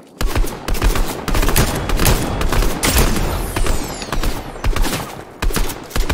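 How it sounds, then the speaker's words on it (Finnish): Heavy gunfire in the video game Fortnite, a Victory Royale match: loud, rapid bursts and single shots crackling almost nonstop, close by, with no talk over them. "Etelästä ammutaan kanssa."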